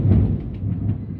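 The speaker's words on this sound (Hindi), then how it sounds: "इसके लिए ज़रा ज़ोर से बिजली कड़क रही है, ठीक है, इसलिए आवाज़ ज़ोरदार आई है।" A deep, rumbling roll of thunder during rain, heavy and low, swelling briefly and fading within about a second.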